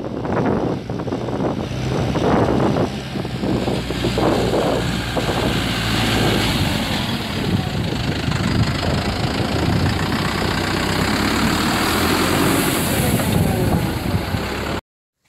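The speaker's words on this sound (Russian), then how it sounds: "В целом опрыскиватель дует неплохо" The engine of an orchard sprayer in a pear orchard runs steadily while the blower roars with a broad rushing noise, close and loud throughout, with a bit of wind buffeting.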